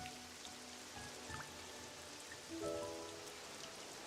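Soft, steady rain falls in the video game Pokémon Pokopia, a faint, even patter at low volume with quiet chiming game tones sounding over it.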